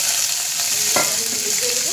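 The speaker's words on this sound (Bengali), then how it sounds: "এই তেলে ভেন্ডিটা দিয়ে" Okra sizzles in hot oil in a pan, a steady bright hiss throughout with a brief louder crackle partway, close up and alone.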